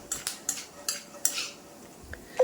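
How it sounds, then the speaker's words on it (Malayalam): Peanuts dry-roasting in a pan are stirred steadily, giving about five close, crisp scraping and rattling strokes spaced evenly, with no talking. "കരിയാതെ നമ്മളിത് വറുത്ത് എടുക്കണം അപ്പോൾ അങ്ങനെ കൈവിടാതെ ഇളക്കി നമുക്ക് വറുത്ത് കോരിയെടുക്കാം"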